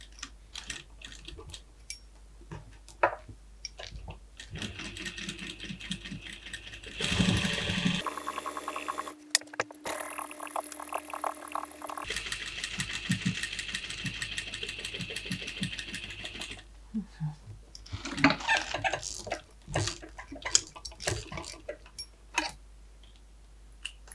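A sewing machine stitches parquet-pattern quilt pieces in several bursts of fast, even whirring separated by pauses and faint handling noises, fairly close and moderate in level.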